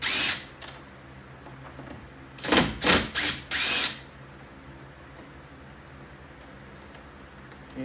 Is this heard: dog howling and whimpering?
no